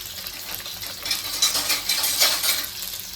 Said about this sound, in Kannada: ಇದನ್ನ ಇವಾಗ ಚೆನ್ನಾಗಿ ಫ್ರೈ ಮಾಡ್ಕೊಳ್ಳೋಣ